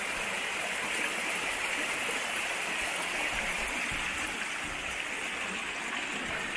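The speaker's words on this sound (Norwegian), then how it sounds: "så det kommer en bekk rennende ned" A stream runs down through an old quarry site, a steady, close rushing of water that fills the whole clip without pause.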